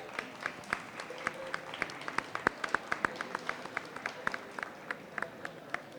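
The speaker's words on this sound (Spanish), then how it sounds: "Por favor, les solicito un aplauso." An audience at a magazine presentation event applauds, producing a run of sparse, irregular claps from a modest crowd that thin out toward the end.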